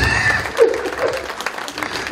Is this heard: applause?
yes